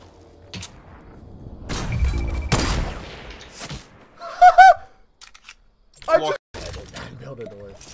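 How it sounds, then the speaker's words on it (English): Gunfire in the Fortnite battle royale game arrives as a few sharp bursts of shots with short gaps between them, heard under a player's excited talk. "I just heard somebody shooting me"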